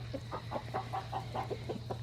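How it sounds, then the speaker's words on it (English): Chickens about eighteen weeks old, young hens just starting to lay, cluck in a steady run of short calls with a constant low hum beneath, moderately close and without any talk. "And the chickens are 18 weeks old."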